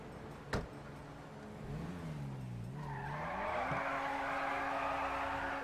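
A Ferrari sports car in GTA 5 revs up, with a sharp knock, then a rising engine note that climbs and holds steady while tires hiss and squeal, loud and close.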